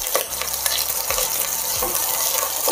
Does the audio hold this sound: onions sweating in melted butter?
yes